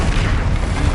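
An Incendio fire spell in the Hogwarts Legacy video game, a short, loud, dense whoosh with a heavy low rumble, steady for under a second.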